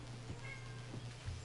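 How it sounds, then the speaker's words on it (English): A house cat meows faintly in a room over the steady background hum of a Final Fantasy 14 gaming session, a couple of short, soft cries alone without talk. "You hear my cat?"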